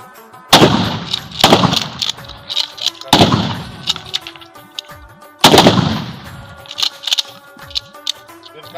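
Gunfire during firing practice: three sharp, loud shots spaced a couple of seconds apart, each with a booming echo tail and a few smaller reports, surrounded by quieter mechanical clicks.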